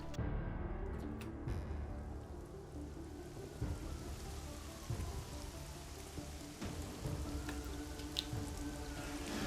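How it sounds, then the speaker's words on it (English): Steady heavy rainfall at night on a street in the video game Deus Ex: Mankind Divided, a dense constant hiss with scattered drips and a low rumble underneath. "it is now raining and still nighttime"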